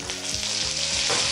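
Curry leaves hit hot oil during tempering for a cabbage and moong dal poriyal, and the loud, dense sizzle swells toward the end of the short burst, over faint background music.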